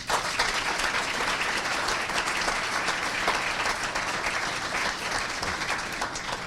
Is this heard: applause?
yes